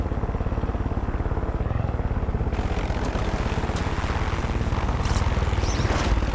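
Attack helicopter in the video game Far Cry 5, a steady, close, loud rotor thump and engine drone that continues alone without talk.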